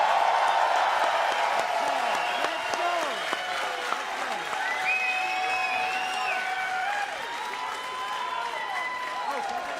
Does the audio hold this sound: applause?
yes